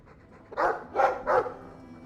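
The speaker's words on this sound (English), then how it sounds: "I like the doggy." Three short, clear barks from a dog in the fantasy video game Dragon Age II, evenly spaced and fairly close, with no talking in between.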